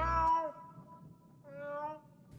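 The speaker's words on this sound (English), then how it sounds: "It was just a cat." A cat in the film Alien meows twice, a short bright mew followed by a longer drawn-out one after a brief pause, clear and close with no talking.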